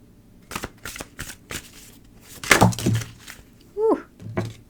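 Tarot cards being shuffled by hand in short, riffling bursts with soft thunks between them, close and moderately quiet, with a brief breathy voice sound near the end.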